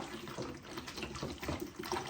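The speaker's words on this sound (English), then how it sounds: "let's just start adding water" Water runs from a tap into a pot of hibiscus tea, a soft continuous splashing pour at close range.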